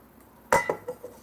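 A sharp metallic clank of a camping frying pan and cookware, followed by two or three lighter clinks, close up in an otherwise quiet space.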